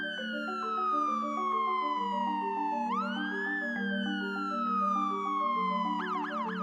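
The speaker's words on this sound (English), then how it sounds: "a police siren suddenly echoes from a distance" A police car siren wails steadily and loudly, sweeping slowly down, then back up, before switching to a faster warbling pattern, heard alone on a street with no voices.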